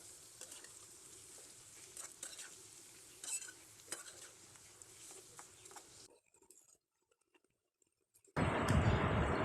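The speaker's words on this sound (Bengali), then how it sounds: "এখন চিংড়ি মাছ দিয়ে ভেজে নিব।" Shrimp frying with onion, garlic and green chili in a pan, a soft steady sizzle with sharp stirring scrapes, then a near-silent gap before a loud burst of sizzling at the end.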